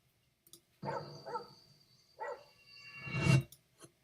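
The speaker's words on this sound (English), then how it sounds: "Dog's barking." A stray dog barks several times in short separate bursts at moderate distance, with quiet gaps between the barks and a faint steady tone underneath.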